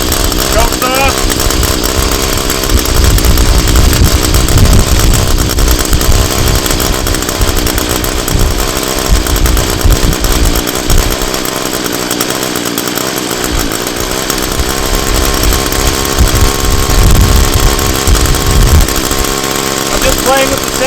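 An ECHO SRM 210 two-stroke string trimmer with a running problem runs close by during off-season maintenance, a loud, raspy buzz that surges and sags unevenly and briefly dips low, with occasional talk over it.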